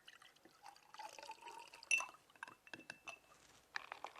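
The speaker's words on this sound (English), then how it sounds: "using a ladle, we can pour the citrus punch" Citrus punch is ladled into glasses: gentle liquid pouring and dripping, punctuated by light glass clinks, close and quiet with no talking.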